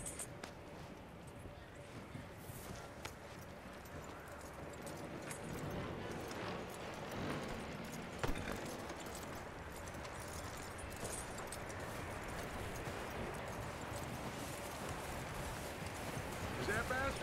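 Horse hooves clip-clop at a steady pace in Red Dead Redemption 2, a continuous moderate rhythm running under game ambience and talk throughout.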